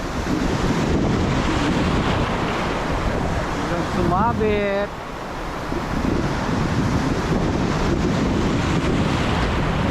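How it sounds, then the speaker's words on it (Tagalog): Large waves roar and wash steadily against a rocky Philippine shoreline during shore fishing, with gusting wind buffeting the microphone. Someone speaks briefly over the constant surf. "Laki ng alon."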